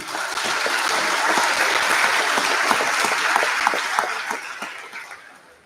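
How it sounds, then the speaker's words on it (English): Audience applause for king and queen candidates at a high school basketball game night between Marion and Inman: a thick, steady crowd clapping that holds strong and then tapers off near the end. "Let's give a round of applause for all of our king and queen candidates."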